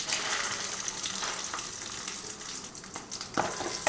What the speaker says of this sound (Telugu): ఇప్పుడు కొన్ని పల్లీలు వేసుకుందాం